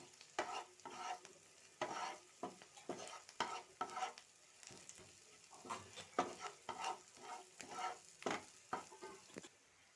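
A spice masala with ginger paste is stirred in a pan for veg tikki, with repeated scraping spoon strokes against the pan in an irregular rhythm over a soft sizzle. No one speaks.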